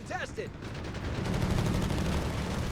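.30 cal machine gun fire in Company of Heroes 3, a rapid continuous burst of game gunfire under a commentator's brief voice.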